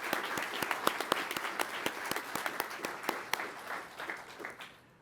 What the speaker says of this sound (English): join me in a round of applause for our instructor pilots